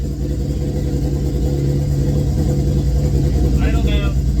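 A rebuilt car engine with a new crank, pistons and rings runs steadily nearby, a continuous low rumbling drone throughout with a brief higher whine near the end.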